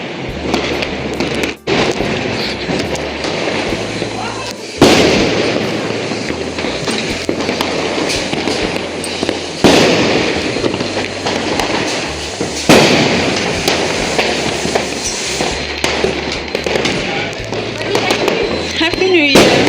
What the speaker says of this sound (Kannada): ಎಲ್ಲ ಕಡೆ ಪಟಾಕಿ